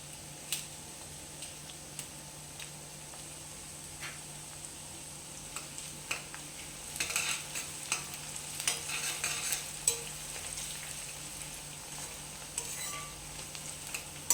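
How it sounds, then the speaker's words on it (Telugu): Sliced onions and dried red chillies frying in a pan for a leafy greens dish, a quiet, even hiss with soft scrapes and ticks of stirring that grow busier partway through. "ఇప్పుడు వీటిని ఇలా బాగా కలుపుకొని కాసేపు ఫ్రై కానివ్వాలి."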